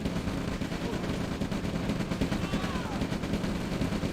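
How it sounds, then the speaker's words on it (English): A pillbox in the Red Alert strategy game keeps up rapid, continuous machine-gun fire at a medium tank, loud and dense throughout the whole stretch with no pauses. "the pillbox was still shooting at the tank"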